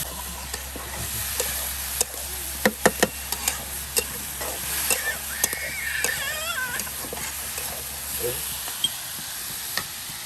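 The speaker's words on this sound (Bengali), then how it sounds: "এই যে আপনার ডাল ভাজা ভাজা করে নেওয়া হচ্ছে" Khesari dal frying in oil in a pot, a soft sizzle under sharp scraping and clinking strokes of a stirring spoon, irregular and close; a brief high whining sound drifts in partway through.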